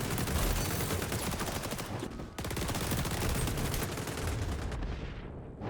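Rapid automatic hip-fire gunshots in the video game XDefiant, a dense continuous volley of loud shots with one brief pause before the firing resumes.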